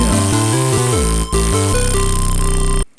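A harsh, buzzing distorted synth plays a stepping bass line with gritty sawtooth overtones, loud and continuous before stopping abruptly near the end.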